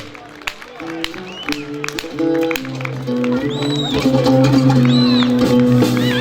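A crowd at a Turkish henna night claps along in steady rhythm under loud music, the applause growing fuller and denser toward the end.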